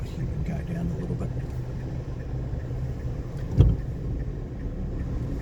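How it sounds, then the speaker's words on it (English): Dacia Duster 1.2 petrol three-cylinder engine thrumming steadily at low pitch while driving, a continuous rumble under cabin noise with one brief knock midway. "You can hear the 3-cylinder thrum"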